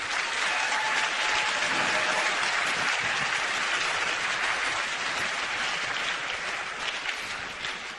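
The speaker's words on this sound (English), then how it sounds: "Let's Give a little round of applause for all those advisors and volunteers" A large audience at the opening ceremony of a regional tech competition gives sustained, dense applause for advisors and volunteers, loud and continuous throughout, fading slightly at the end.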